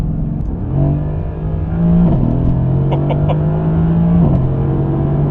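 A Mercedes AMG GT's engine revs hard and close, climbing in pitch through two quick gear changes with brief dips between, loud and continuous.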